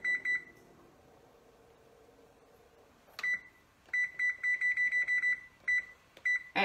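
A kitchen oven's keypad beeps as cookies go in to bake: a few short electronic tones, a pause, then a quick series of repeated high beeps, close and clear with no talking.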